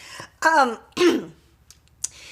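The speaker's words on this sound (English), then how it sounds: "I'm coughing" Two short, harsh coughs close to the mic, followed by a faint click and a brief breathy sound.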